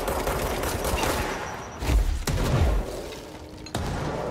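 Gunfire from enemies using shotguns in the video game Control, loud and close, with heavy booming blasts at irregular intervals over a constant din of combat noise.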